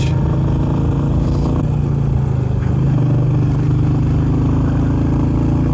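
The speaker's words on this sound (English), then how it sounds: "Uphill, steep uphill, opening the throttle and the bike accelerates" A Royal Enfield Meteor 350 motorcycle accelerates up a steep hill, its engine droning loud and close with a steady low thrum that shifts pitch midway as the throttle opens, with no talk.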